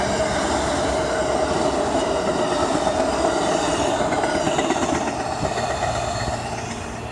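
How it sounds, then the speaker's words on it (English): Amtrak passenger train bound for New York from Tampa, passing a Lakewood Drive crossing at speed: a loud, steady roar of rolling cars with rhythmic wheel clatter and high rail whine, easing slightly at the end. "while Amtrak train 92 departs Tampa heading to New York, he's not at 80 miles an hour yet"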